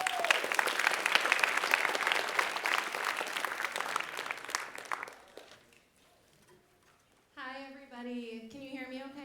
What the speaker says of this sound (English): Please give a warm Fremd round of applause for Teresa Zeglitz